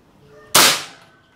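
A single sharp shot from a Bocap Predator Tactical SAS 500cc air rifle firing an 8.6-grain pellet cracks out loudly, with a bright burst that decays over about half a second in an otherwise quiet setting.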